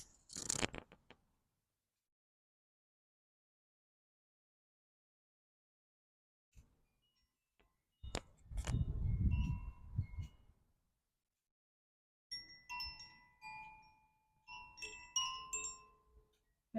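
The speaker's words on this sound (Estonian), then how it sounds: "ma tõin siia välja tuulekellad, sellepärast, et meil on õues natukene tuult ja siis on mõnus kuulda, kuidas nad siin helisevad" Koshi wind chimes hang outdoors in a light breeze. After long stretches of near silence and a brief gust of wind rumble, a few sparse, ringing metallic tones sound softly and linger.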